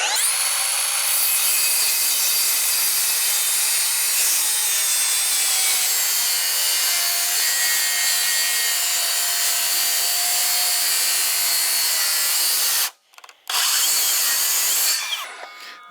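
Hand sawing through clamped wood for a garage step: a steady, loud, continuous rasp close by, breaking off briefly near the end and resuming before trailing away.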